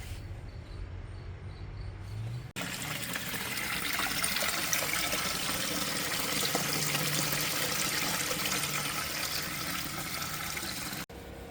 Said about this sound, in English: now I'm gonna move it from here into here with that pond pump.